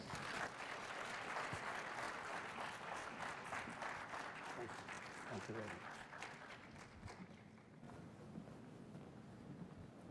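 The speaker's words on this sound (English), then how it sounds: "please help me in welcoming your workshop presenter for today, distinguished Toastmaster, Peri, with a thunderous round of applause" A room of people at a Toastmasters leadership workshop applauds steadily to welcome the presenter, dense clapping that gradually thins toward the end, with some murmuring under it.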